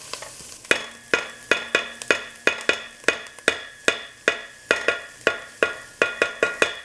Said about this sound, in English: we're going to toss in our ginger and our garlic. Give this a little mix, and we're going to cook this down for another 5-ish minutes.